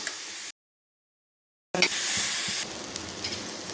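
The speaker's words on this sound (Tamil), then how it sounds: "இந்த வல்லாரையும் இந்த உப்பும் எண்ணெயெல்லாம் போடல, சும்மா தான் வதக்குறோம்" Vallarai (Indian pennywort) leaves and salt dry-sautéed in a pan with no oil give a steady, close sizzling hiss after a short silent gap, with small stirring knocks underneath.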